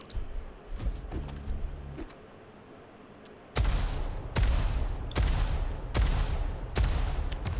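Rockets are fired repeatedly in the arena shooter Diabotical during a duel match. Quieter game noise comes first, then a loud run of about five heavy blasts at roughly one-second intervals.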